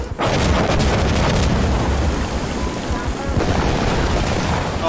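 Continuous loud battle din from the Insurgency: Sandstorm video game, with booming explosions and dense rattling gunfire blending into a heavy, sustained roar.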